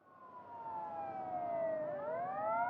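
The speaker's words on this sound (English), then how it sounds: "Sirens wail as the squad cars race toward the scene of the explosion." Police squad car sirens wail in a dramatized scene, a single rising and falling siren tone sweeping down and then back up, growing gradually louder as it approaches.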